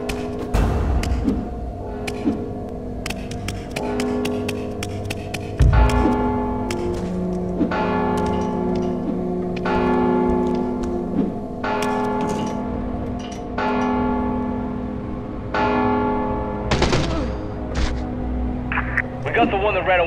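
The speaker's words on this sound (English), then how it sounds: "Don't you hear the bell?" Repeated metallic bell strikes ring out in the Mark of the Ninja video game, layered over game music and ambience while voices talk through much of it.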